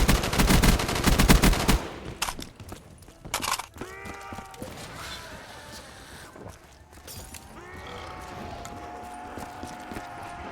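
A big gun in a Call of Duty zombies match fires a loud, rapid burst for about two seconds, then gives way to quieter tonal game sounds and music.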